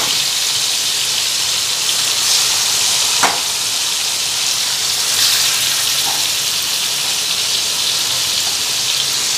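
Hot oil spattering and sizzling in a frying pan, a loud, steady hiss running throughout with a couple of sharper pops, close by and with no voices over it.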